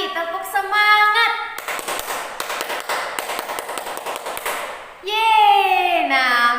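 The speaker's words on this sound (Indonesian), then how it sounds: "Sekali lagi, tepuk semangat." A fifth-grade class repeats a rhythmic spirit clap, a patterned burst of sharp taps and claps lasting a few seconds, with the teacher's voice before it and cheering talk after.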